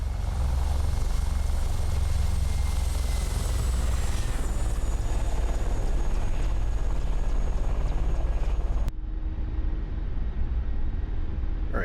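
An Mi-24 helicopter flying past with its gear raised in a flight simulator game, a loud, constant rotor and turbine roar with rumbling low thump that cuts abruptly quieter near the end.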